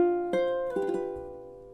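Soft ukulele strums on a held chord, a few gentle plucked strokes ringing out and decaying, close and alone, from measure 4 of a Christmas song.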